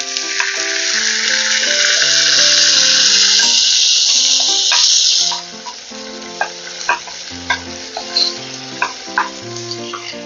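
Chopped onion and tomato hit a hot frying pan with garlic, giving a loud, steady sizzle for several seconds that then drops to a quieter crackle with intermittent stirring scrapes and clinks.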